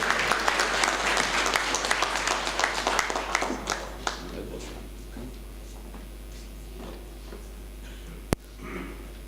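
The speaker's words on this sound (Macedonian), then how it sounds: "Да го поздравиме се на аплауз." An audience applauds at the opening of a memorial room, a burst of hand clapping that thins out and fades over several seconds, followed by a sharp knock and quiet room tone.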